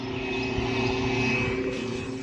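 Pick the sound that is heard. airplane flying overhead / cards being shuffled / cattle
airplane flying overhead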